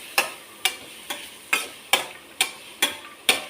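Grated carrot sautéed in ghee over a low simmer, a spatula scraping the pan in eight regular sharp strokes, each a bright crackling swish over a faint background sizzle.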